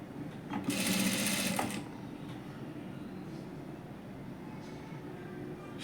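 A sewing machine stitches a princess cut blouse with lining panels, a loud steady mechanical whir for about a second near the start that then stops, leaving a quiet room hum with no talk.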